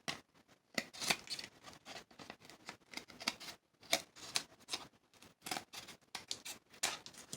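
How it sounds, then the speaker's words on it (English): Scissors snipping through journal pages, a quick series of close, crisp cuts in irregular clusters with short pauses, no voices. "I would get some scissors out and cut it."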